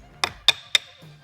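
Three evenly spaced metallic taps ring out as tooling is knocked loose from the head of a Lavina concrete grinder, each strike bright and close with a short resonant tail, followed by a faint low hum.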